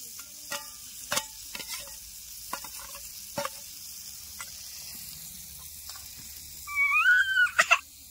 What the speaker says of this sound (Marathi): वाटून घेतून आता एकत्र सगळं करणार आहे मी.